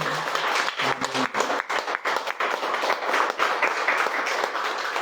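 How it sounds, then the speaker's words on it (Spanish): A church congregation claps together in loud, sustained applause during a worship service, with ragged bursts of hand claps filling the space and a brief voice sounding early on. "Dale un fuerte aplauso al Señor."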